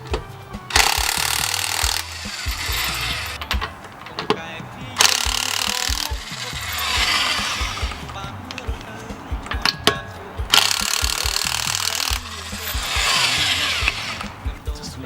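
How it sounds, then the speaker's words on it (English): A power drill running in repeated bursts of whirring and ratcheting while lug nuts come off a car wheel during an engine oil change, loud and close, with a few short pauses between bursts. "Good to have the power drill though."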